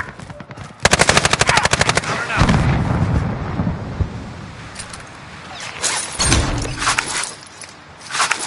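Rapid machine gun bursts from the Warzone video game rattle loudly, followed by heavy booming gunfire and explosions, with scattered bursts later.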